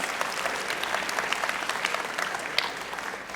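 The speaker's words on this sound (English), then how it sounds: "give yourselves a round of applause" A conference audience at Skepticon 5 breaks into applause, a loud, dense burst of clapping from a large crowd that carries through the whole moment.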